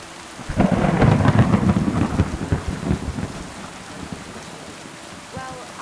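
Thunder rumbles loudly over steady rain in the medieval video game Kingdom Come: Deliverance II, a deep rolling boom that swells early then fades into ongoing rainfall.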